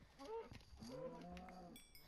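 Cows low in the Minecraft video game, a couple of short, nasal moos in quick succession, faint and close, with no talk over them.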